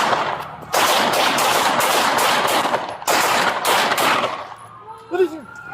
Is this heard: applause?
no